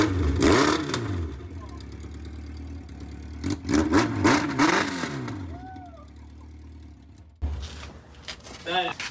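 A Honda CB750 cafe racer motorcycle engine fires up for its first start, loud bursts of revving rising and falling with crackly exhaust, gaps between blips and a voice talking nearby.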